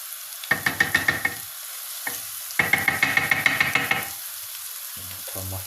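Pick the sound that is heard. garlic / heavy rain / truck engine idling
garlic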